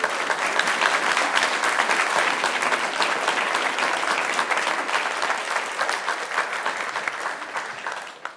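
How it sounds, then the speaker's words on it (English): An audience in city council chambers at a Sioux Falls council meeting gives a sustained round of applause, loud and even before tapering off at the end. "Let's give them one more round of applause"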